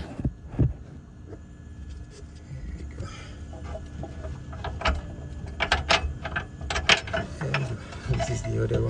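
Ratchet working loose the bolt on a rear right control arm, a series of short metallic clicks in uneven bursts, louder toward the end, over a low background hum without speech.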